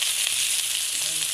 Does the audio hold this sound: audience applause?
no